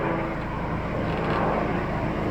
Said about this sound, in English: Wait till the plane goes.